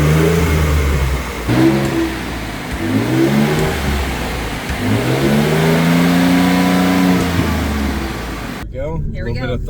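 A Ford EcoBoost engine on its stock intake revving repeatedly: several short throttle blips followed by a longer rev that rises and falls, loud and close, ending abruptly.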